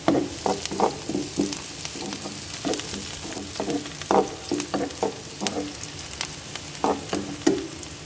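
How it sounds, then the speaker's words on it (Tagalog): Onion and garlic sizzling in a frying pan, a steady close frying hiss with irregular stirring scrapes and pops throughout. "At ilalagay ko naman ngayon ang bawang."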